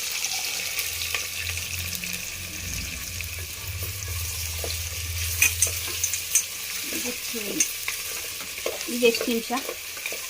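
Legumes and tomato sauté in a pan for a Kannada-style saaru, giving a steady close sizzle with scraping stirs throughout. A brief spoken question comes near the end.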